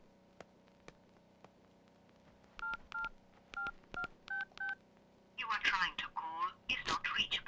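A telephone keypad is dialed, giving short paired beeps in a quick irregular run, close and clear over a quiet hum, followed by a voice speaking.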